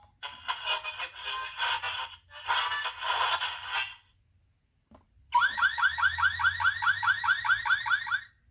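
A cartoon racing snail's glowing shell sets off a built-in alarm: a loud, rapid warbling siren that repeats steadily for about three seconds, following earlier bursts of harsh noise and a brief pause.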